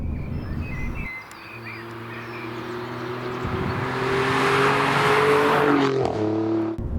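An Alfa Romeo Giulia Quadrifoglio engine drones with a steady tonal hum that rises in pitch as it accelerates, loud and close, with a brief drop and shift near the end.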